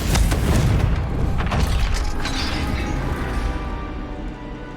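A Confringo blasting spell explodes in a video game with a loud, deep boom at the start, and a rumbling crash then decays slowly over several seconds with no voices.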